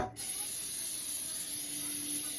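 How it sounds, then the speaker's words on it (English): Cooking spray hisses onto a baking pan for corn pudding in a steady, close, unbroken burst that runs for a couple of seconds after a short pause. "Then we're going to spray our pan"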